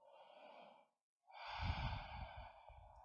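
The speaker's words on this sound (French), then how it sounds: "On prend ici une longue respiration." During yoga practice, a long slow breath is drawn in through the nose and then released in a soft, breathy exhale, quiet and close with a brief silent pause between.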